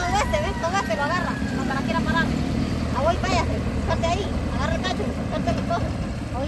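A motorcycle engine turns over and runs with a steady low rumble, partly buried under lively, overlapping Spanish conversation and shouted encouragement.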